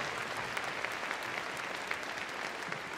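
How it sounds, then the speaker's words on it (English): Steady crowd applause fills an arena after an RAF police dog display at Crufts 2012, dense even clapping with a few sharper claps standing out, continuing evenly throughout. "A massive round of applause with that."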